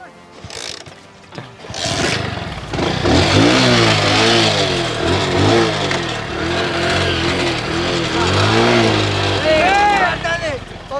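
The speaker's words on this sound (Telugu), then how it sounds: "ఇప్పుడు మన బైక్ని అయితే స్టార్ట్ చేద్దాం, చూద్దాం ఇది వచ్చేసి మూలలు ఉన్న టైర్ మీద రన్ అవ్వగలుగుతుందా లేదా" A motorcycle fitted with a homemade tyre studded with about 2000 screws starts up and revs repeatedly, its engine pitch swooping up and down loudly and close, while people talk over it.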